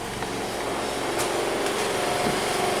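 An idling Ford Escape engine sits under a steady, even broadband running noise with no change in speed, with a few faint clicks and knocks in the background and no talk.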